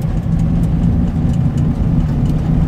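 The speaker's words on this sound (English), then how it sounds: "Let's see if we can go through the gears here." A Fiat 500 engine pulls steadily in third gear, a loud, continuous low drone heard from inside the small car with no talking over it.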